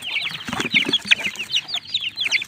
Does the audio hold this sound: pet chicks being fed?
yes